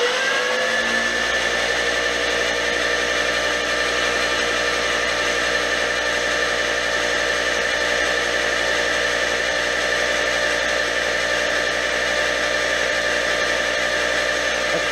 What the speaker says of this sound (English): Yep, just spinning it with the starter, so that's real good oil pressure.